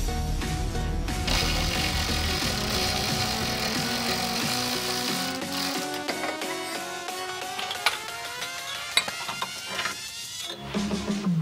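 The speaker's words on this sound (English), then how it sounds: "I'm gonna go ahead and use my electric ratchet" Electric ratchet loosening sway bar end link bolts on a Subaru BRZ / Scion FR-S / Toyota 86, a continuous mechanical whirring and clicking that rises and falls in pitch, close up with no talk.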